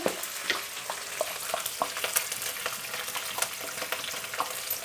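Green chillies and curry leaves frying in a pan with turmeric for drumstick sambar, a continuous close sizzle dotted with frequent small crackles and pops, no voices.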